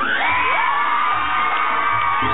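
A pageant audience in Penjamillo, Michoacán cheers and whoops loudly and steadily, a dense crowd roar with no pauses.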